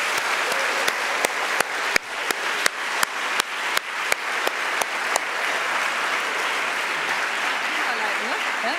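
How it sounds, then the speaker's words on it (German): Audience applause for professors Harms and Parchmann at an event on sustainable living, steady full-room clapping with a few sharp, rhythmic claps standing out near the start before settling into an even wash. "bitte noch mal ein großer Applaus für die Professorinnen Harms und Parchmann"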